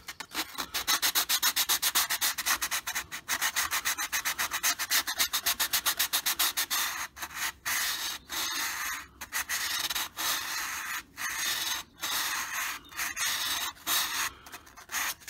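Coarse sanding block rubbed over a model P-51 Mustang, a close, steady scratchy rasp that runs in fast strokes at first, then in slower, separate passes with short pauses between them.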